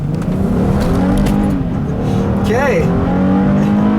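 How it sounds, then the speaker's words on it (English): A 2019 Honda Pilot Elite's 3.5-liter V6 pulls hard under acceleration, a steady loud engine drone with rising pitch sweeps, heard from inside the cabin while a person speaks briefly over it. "Got a cool sound to this V6 as well, but picks up and goes really well."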